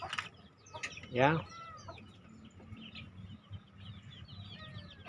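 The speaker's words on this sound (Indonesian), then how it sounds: "Ini adalah ayam kampung." Village chickens (ayam kampung) cluck and call near a backyard coop, with one louder squawking burst and scattered softer clucks and chirps around it; a voice says a word briefly.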